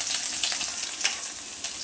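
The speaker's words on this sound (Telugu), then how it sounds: "మనకి ఇవన్నీ మంచిగా వేగిపోతాయి నూనెలో." Ingredients fry in hot oil in a pot while Maggi noodles cook, giving a continuous bright sizzle with light stirring scrapes, close and steady, no talking.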